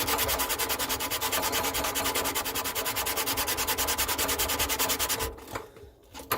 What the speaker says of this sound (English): So I want to sand that down, and really I should paint that white.